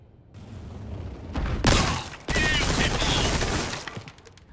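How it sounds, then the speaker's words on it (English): Bursts of automatic gunfire aimed at shooting-range targets in Resident Evil 4 Remake, loud dense rattling volleys with sharp impacts, one short burst then a longer sustained stream. "I immediately showered them with automatic fire"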